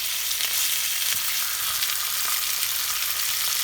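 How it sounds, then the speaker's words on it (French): Chicken bones sear in very hot, smoking oil, giving a loud, steady sizzle with sharp crackling pops for several seconds and no talk. "Donc là, je vais saisir mes os."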